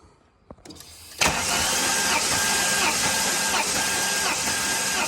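The engine of a VY Commodore with a supercharged L67 V6 cranks steadily during a compression test, a loud, continuous, even starter churn that kicks in after a brief quiet lead-in and runs to the end without firing.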